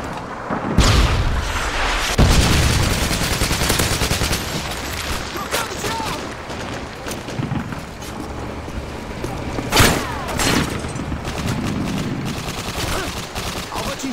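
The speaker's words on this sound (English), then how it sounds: "Friendly Predator missile incoming." Video game explosions and gunfire from a Predator missile strike in Call of Duty Modern Warfare 2 multiplayer: a loud boom near the start, then sustained rattling fire and a second heavy blast, with faint speech mixed in.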